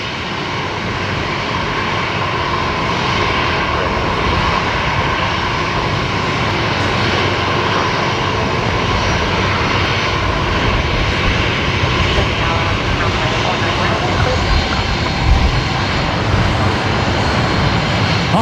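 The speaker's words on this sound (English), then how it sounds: "Jetstar 822 just about to come in here." Jetstar airliner approaching to land on runway 19 left at Brisbane Airport, a continuous loud roar of jet engines holding steady throughout with no talking.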